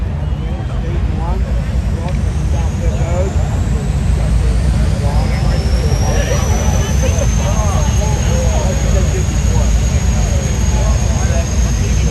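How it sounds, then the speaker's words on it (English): NASCAR race car engines fire up and rev together at Charlotte Motor Speedway, a steady loud roar with a rising whine, blended with crowd and announcer noise, continuous throughout. "Driver, start your engines!"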